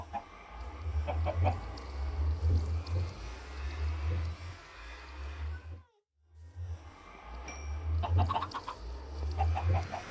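Chickens cluck and murmur in a Minecraft world, soft and steady over a low rumbling background. The sound drops out briefly near the middle and then resumes. No one speaks.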